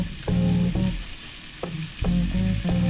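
Corned beef, mince, garlic and onions frying in a pan, a sizzling hiss broken by several stirring scrapes, close and fairly loud with no talk.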